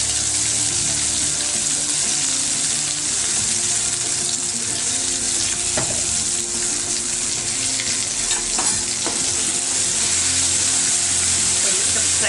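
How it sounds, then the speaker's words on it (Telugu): A paste with tamarind water, salt and spices fries in a pan, giving a continuous loud sizzle with occasional faint clinks of stirring throughout. "కొంచెం ఫ్రై కానిస్తాము."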